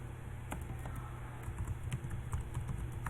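Quiet computer keyboard typing, with soft irregular key clicks in short bursts against a low background hum.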